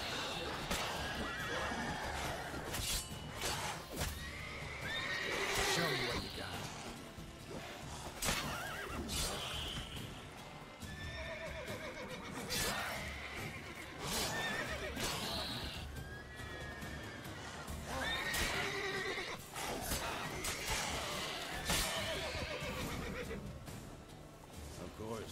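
Horses whinny and neigh repeatedly over a steady clip-clop of hooves, set against a busy, dense game soundscape in The Witcher 3: Wild Hunt.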